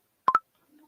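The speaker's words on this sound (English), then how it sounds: "you always know that this is from Facebook Messenger" The Facebook Messenger notification plays as two quick, bright tonal blips in fast succession, clean and close with silence around them and no talk.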